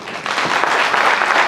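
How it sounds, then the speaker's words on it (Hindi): Audience at a poetry gathering during a railway division foundation day ceremony clapping, a dense, loud and steady burst of applause that fills the whole moment. "आप मेरे लिए भी ताली बजा सकते"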